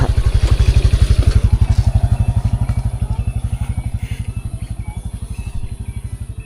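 Motorcycle engine running steadily close by on a road, a loud, fast low pulsing throb that fades slightly as it continues.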